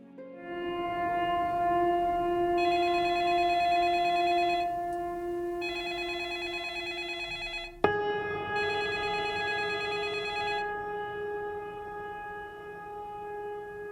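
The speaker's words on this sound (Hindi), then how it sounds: "किसकी कॉल आ रही थी?" A telephone rings with a sustained electronic ringtone that holds steady pitches and shifts to a new tone midway, loud and uninterrupted, with no talking.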